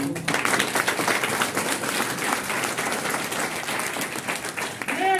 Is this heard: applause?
yes